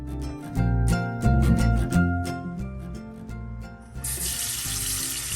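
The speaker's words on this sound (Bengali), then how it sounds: "এখন এক্সট্রা জলটা স্ট্রেনারের সাহায্যে ঝরিয়ে নিচ্ছি।" Boiled pasta water is poured through a strainer in a kitchen, a loud splashing rush of water that starts partway through and continues to the end, heard over a tonal background with no talking.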